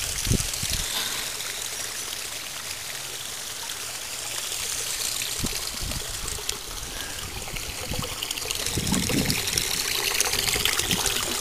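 Water gushes and rushes through a 3-inch FLOUT floating outlet used as a siphon alternative while it flushes, a continuous loud splashing flow with occasional gurgles and knocks, heard without talk.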